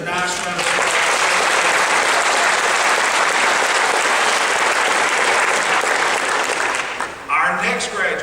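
An audience at a graduation service breaks into loud, sustained applause for a graduate, dense clapping filling several seconds before tapering off near the end.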